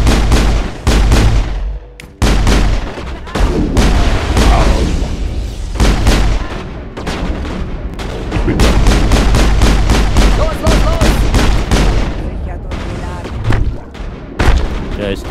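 Gunfire in the video game Mass Effect rattles almost nonstop: loud, dense bursts of shots and heavy booms, close and punchy, with only brief gaps between volleys.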